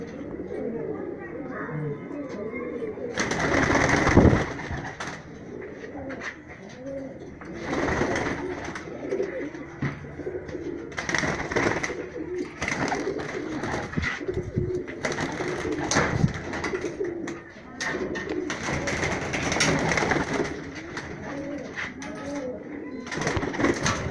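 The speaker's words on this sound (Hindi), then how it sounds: "ये मेरे को कबूतर बहुत पसंद आया काले बाजू का और बहुत ही ब्यूटीफुल कबूतर है" High-flyer pigeons with black wings and white beaks, kept in a loft in Rajsamand, Rajasthan, coo repeatedly at close range, their low burbling calls running under a man's speech.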